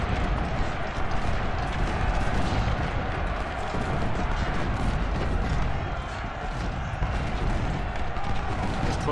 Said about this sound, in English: Those 12-pounders are doing some damage though